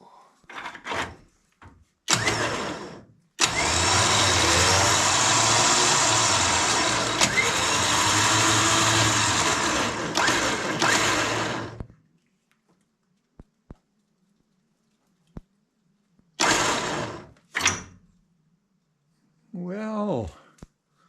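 Electric winch being tested on a 1999 Ford F-250, a loud steady motor whine running for several seconds, then short bursts as it goes in and out, with people talking around it.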